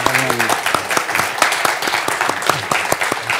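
An audience at a KAIST talk on the future of AI gives warm applause, crisp individual claps dense and continuous, with a voice speaking faintly at the start.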